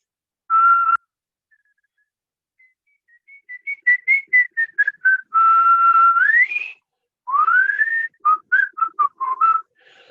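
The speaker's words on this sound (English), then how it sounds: "let me try to do some whistle tone." A single person whistling alone: a held tone, then a string of short rising and falling notes, another long tone sliding upward, and more quick chirps.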